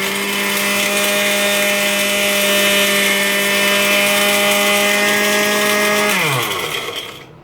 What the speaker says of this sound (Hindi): इसको ग्राइंड करते हैं। तो इन चीज़ों को हमने ग्राइंड कर लिया।